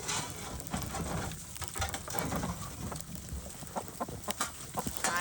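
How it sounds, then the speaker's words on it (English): Swedish Flower Hen cross chickens cluck and mutter on a farm during a blizzard, soft scattered calls over a low background hiss with mechanical clicking. "The chickens don't want to see you."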